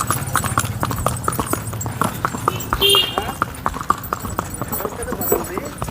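A Sindhi mare, stiff after standing idle for many days, walks with a steady run of sharp, close hoof clip-clops while people talk over the footsteps.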